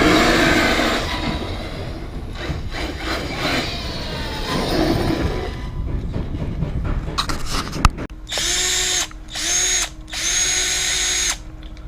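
A power screwdriver working screws on a Redcat Racing R5 RC car, first rattling and clattering at close range, then several short, loud buzzing whirs in bursts with brief pauses between them.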